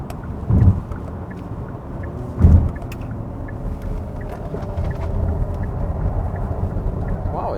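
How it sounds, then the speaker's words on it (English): A 4th generation Kia Sorento rounds a corner, its engine and road noise forming a steady rumble with wind buffeting the microphone and two brief thumps early on, while people talk inside the cabin. "why don't we try the corner with all new Kia, 4th generation Kia Sorento"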